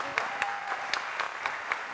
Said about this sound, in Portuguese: Bate palma para ela.